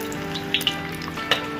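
Corned beef and cheese popiah fry in hot oil, a steady close sizzle with scattered crackling pops, with no talk over it.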